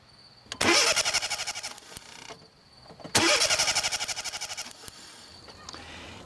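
A car starter cranks twice in rapid rhythmic pulses, each burst lasting over a second, with a pause between, while the engine never catches. The sound is loud and close.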